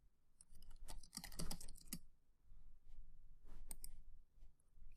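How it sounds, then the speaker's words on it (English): Fingers type a status message on a computer keyboard in a quiet room, a quick flurry of soft clicking keystrokes followed by a few scattered, fainter taps. "And then I can type my status message in this box."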